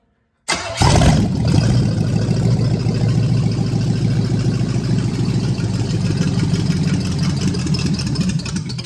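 An engine sitting out of its car on the floor cranks and fires up, then settles into a loud, steady, rumbling idle that continues alone and close by.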